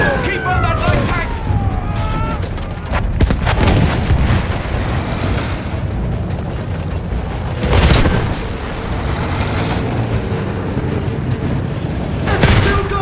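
Heavy field gun firing in the World War I shooter Battlefield 1, loud booming blasts repeating every few seconds amid constant battlefield roar, with a voice shouting over the chaos.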